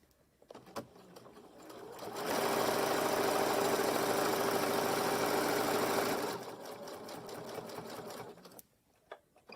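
A sewing machine stitches fabric for a sashiko-style sewing basket, a steady close mechanical whir running for about four seconds between quieter handling sounds, with no talking.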